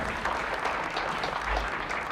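Steady applause from an audience fills the whole stretch, a dense even wash of many hands clapping at a moderate distance with no voices on top.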